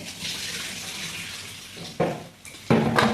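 Water runs steadily from washed raw chicken pieces being drained in a kitchen, broken by two louder splashing pours near the end.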